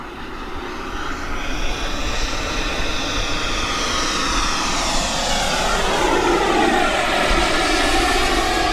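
A Freewing Zeus 45NT RC sport turbine jet flies at about 40% throttle with partial flap, its steady turbine whine and roar sweeping in pitch as it passes, loud and continuous with no talk.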